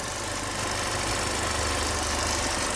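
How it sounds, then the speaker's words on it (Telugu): The 1.5-litre diesel engine of a 2022 Hyundai Creta SX idles with a steady, low, rumbling hum and faint rhythmic knocking, heard close by with no voices. "స్మూత్ ఉంది ఇంజన్ సౌండ్ మాత్రం."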